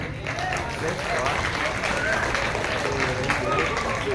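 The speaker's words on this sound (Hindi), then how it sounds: "तालियां।" A crowd at a political rally in Charminar, Hyderabad, applauding and cheering in a dense, steady wash of clapping that lasts a few seconds, with voices mixed in.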